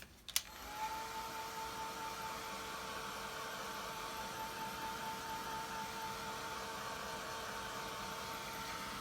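A hair dryer blows steadily to dry a wet watercolor painting of dahlias, a constant close whooshing hum with a whine, starting with a brief click and running without pause.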